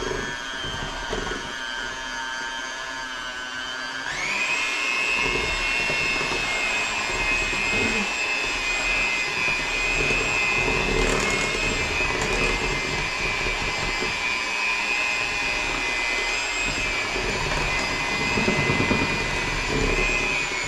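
An electric mixer whirs loud and steady as it mixes carrot cake batter with vegetable oil, switching on after a few seconds of quieter sound and running continuously to the end.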